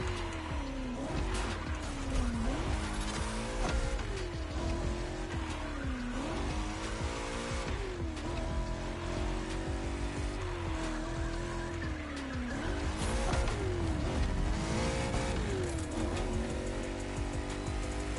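A super classic car races around a circuit in The Crew Motorfest, its engine droning loudly and steadily with rising and falling pitch as it shifts through gears, with tire squeal over a continuous race soundscape.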